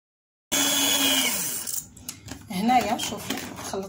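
Oil is whipped with cornstarch in a mixing bowl until it looks like mayonnaise. A loud, steady motor whirs for more than a second, then the beaters clatter and scrape in uneven bursts.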